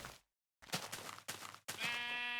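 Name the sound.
sheep bleating in a video game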